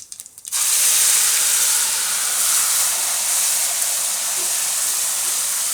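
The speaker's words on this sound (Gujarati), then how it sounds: "જીરું નાખીને આપણે એમાં આ ડુંગળીવાળી ગ્રેવી પહેલાં નાખીશું" Onion gravy hitting hot oil with cumin seeds, bursting into a loud, sudden hiss that settles into steady, dense sizzling for several seconds.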